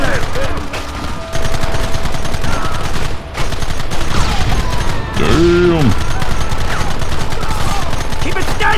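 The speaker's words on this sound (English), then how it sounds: "Who the hell is shooting me?" Gunfire in the Red Dead Redemption video game, dense bursts of rapid shots in a chaotic battle, loud and continuous with shouting voices mixed in.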